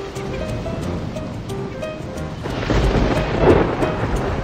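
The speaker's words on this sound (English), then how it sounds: "A storm is coming." Cartoon thunderstorm at sea with a low rumble of thunder building under a steady wash of wind and waves, swelling louder toward the end, with a few light music tones early on.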